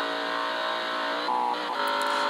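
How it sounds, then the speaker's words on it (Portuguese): A high-powered car engine in a racing game holds a steady, loud, harmonic-rich drone at high speed, swelling slightly near the end, with no talk over it. "O motor chega até a cuspir fogo"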